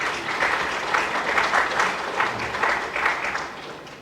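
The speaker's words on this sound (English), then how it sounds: "Please welcome him with a round of applause." A crowd at a government scheme launch in Ghana gives a steady, full round of applause that stays strong throughout and fades slightly at the end.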